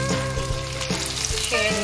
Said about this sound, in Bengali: ফ্রাই প্যানে ভেজে দেবো।